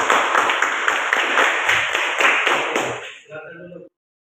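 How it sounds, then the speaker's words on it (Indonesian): A classroom group claps for the first presenting team, with brisk, dense applause mixed with chatter that fades out and stops abruptly after a few seconds. "tepuk tangan dulu untuk kelompok 1."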